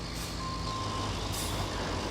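A heavy truck in the off-road trucking game Roadcraft beeps steadily while reversing, a repeating electronic tone over a low engine rumble, heard fairly quietly without speech.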